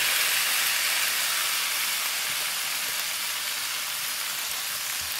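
Pork and kimchi sizzle in a hot frying pan over medium heat, a steady, close, dense hiss that holds evenly throughout with no talk over it.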